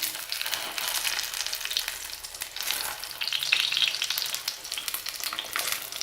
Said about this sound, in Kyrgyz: ысып аткан майга кырын салабыз